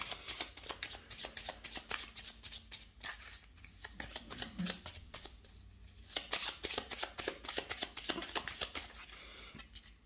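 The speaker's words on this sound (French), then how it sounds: "je vais mélanger le deck de cartes maître invisible parce que j'ai plus de cartes" A deck of cards for a dungeon-crawl board game is shuffled close up, with rapid riffling and flicking bursts in two runs separated by a short pause, loud and clear without speech.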